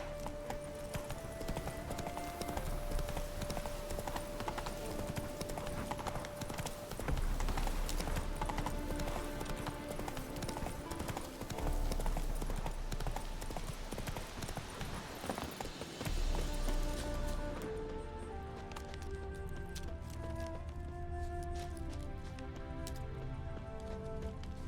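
Hooves of a horse gallop in rapid, steady clip-clop rhythm through the whole stretch in The Witcher 3 video game, with rain-like ambience and game music underneath, the footfalls thinning out toward the end.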